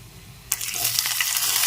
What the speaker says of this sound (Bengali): টমেটো আর কাঁচা লঙ্কা একটু নাড়াচাড়া করে ভেজে নিয়েছি